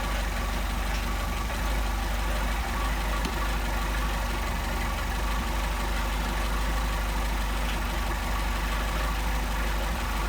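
A Mercedes 190SL engine with Solex carburetors idles close by, a steady, unbroken mechanical drone with a low rumble that holds level for the whole stretch, and nobody talks.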